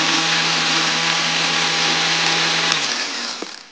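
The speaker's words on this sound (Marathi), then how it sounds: "पिठी साखर ह्याच्यात आपण घालूया आणि परत एकदा मिक्स करण्यासाठी फिरून घ्यायचं" A kitchen blender whirs steadily as it mixes a mango smoothie with powdered sugar, a loud continuous motor drone that runs evenly for several seconds before cutting off near the end.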